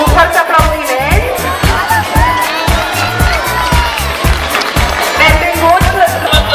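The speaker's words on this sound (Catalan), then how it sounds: "un fort aplaudiment" Strong applause from an audience at a school carnival parade, loud clapping and cheering mixed with voices and heavy rhythmic drum hits, dense and close.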